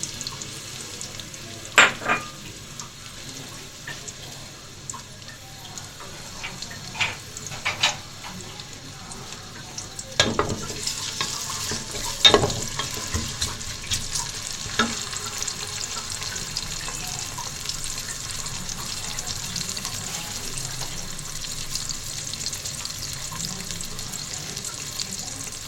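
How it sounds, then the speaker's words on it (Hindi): Sliced onions soften in half a cup of oil in a pressure cooker on a stove, a faint steady sizzle running throughout with occasional light clicks and clinks of a utensil, no voices. "सबसे पहले मैं प्रेशर में आधा कप ऑयल डाल लूँगी और इसमें मैं ये प्याज थोड़ा सा बस नरम ही करना है प्याज।"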